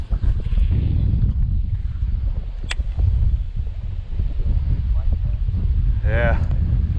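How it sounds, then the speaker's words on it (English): Strong wind buffets the microphone in a steady loud roar on open water during a bass fishing tournament, with a brief whistle-like tone and a short warbling animal-like call near the end. "Wind has picked up."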